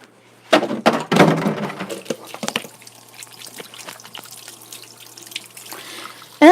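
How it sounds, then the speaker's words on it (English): Chicken breasts are rinsed under a running kitchen sink tap: a loud burst of splashing water with handling noise up front, then quieter drips and trickling, and the flow surging again at the end. "I'm going to take these breasts, give them a quick rinse"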